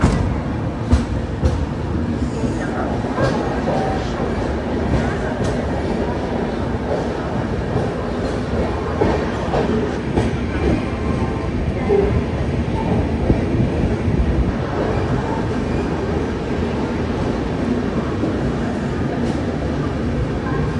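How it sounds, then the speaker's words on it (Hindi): Rani Kamlapati Shatabdi Express rolling out of Mathura Junction, a steady, loud rumble of rail cars and wheels on track that holds through the whole stretch with no break. "हम लोग की ट्रेन मथुरा जंक्शन से निकल चुकी है"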